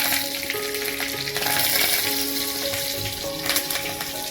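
Mustard seeds, cumin and curry leaves sizzle loudly in two to two and a half spoons of hot oil in a kadhai, a tempering for Maharashtrian dadpe pohe. The frying hiss is continuous and close, with scattered crackles throughout.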